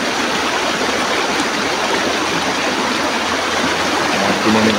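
A strong river current rushes after rain, giving a loud, dense, constant roar of churning water that stays close and steady throughout.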